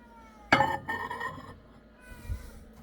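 A cat gives a single loud meow up close in a kitchen while coffee heats in a microwave, followed by quieter clinks and faint background sounds.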